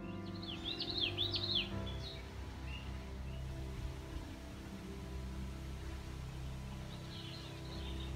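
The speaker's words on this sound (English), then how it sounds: "We were just amazed by the incredible amount of birdsong throughout the park." Birds sing and chirp in Rouge National Urban Park, Canada, a burst of bright calls early, then fainter distant song later over a steady low hum of outdoor background noise.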